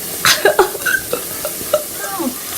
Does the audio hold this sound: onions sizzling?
yes